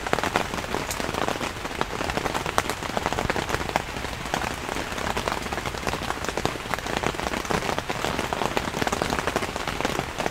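Steady, dense rain patters on a thin fabric shelter less than a quarter millimeter thick, a continuous close crackle of drops with no pauses, fairly loud throughout.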